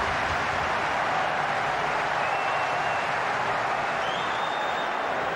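Home crowd at a Charlton Athletic football match applauding steadily, a broad, continuous wash of clapping and stadium noise heard from a distance, with a faint whistle-like tone near the end.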